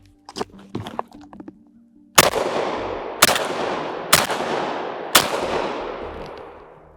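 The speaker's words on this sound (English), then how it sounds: "A little semi-automatic double-aught buckshot right here." Four loud, sharp shotgun blasts from a semi-automatic shotgun loaded with double-aught buckshot ring out outdoors in the snow at a target, spaced about a second apart, each trailing off in a long echo, with a few softer clicks and handling noises before the first shot.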